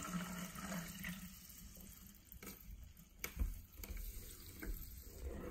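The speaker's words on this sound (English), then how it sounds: "Let's pour some water in." Sparkling mineral water from Italy pours steadily into a small test cup, a continuous fizzy, splashing trickle at close range with a few louder gurgles, no talking.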